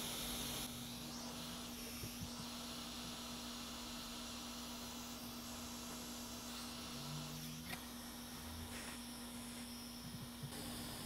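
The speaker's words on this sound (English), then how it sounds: "Hot air, I'm gonna put it at 300 degrees" A hot air rework station set to 300 degrees blows a steady, broad airy hiss while flux is being heated on a small adapter board for an iMac chip. Faint handling noises come and go under the constant blowing.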